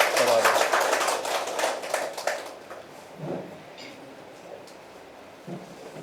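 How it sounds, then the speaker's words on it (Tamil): An audience applauds loudly to welcome a Sahitya Akademi award winner onstage at a felicitation ceremony, with dense clapping at first that thins and fades within a few seconds, leaving a quiet hall with faint murmurs. "அனைவரின் பலத்த கைத்தட்டலுடன் வருக வருக என்று வரவேற்கிறேன்"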